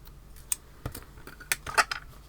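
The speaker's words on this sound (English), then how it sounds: "snip it off" Scissors snip off a thread on a hand-stitched cloth doll, with a few sharp, dry clicks scattered across a quiet moment and no voice heard.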